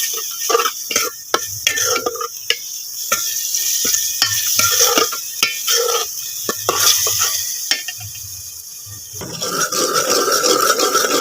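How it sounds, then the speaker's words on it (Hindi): Tomatoes frying in a masala of ginger garlic paste in a pot for a potato and egg shorba, with steady sizzling broken by repeated scraping and stirring strokes of a spoon against the pan. "जो है ना इसमें मैं टमाटर ऐड कर दूँगी, वो उसकी भी अच्छे से बुनाई कर लेंगे"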